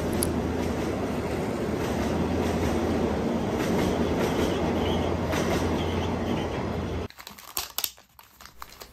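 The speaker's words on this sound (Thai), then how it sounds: "มาดูขบวน261จากอีกมุมหนึ่งนะครับ" Train number 261 rumbles past loud and close for about seven seconds with steady wheel noise and rail clatter, then cuts off abruptly to quieter, uneven background sounds.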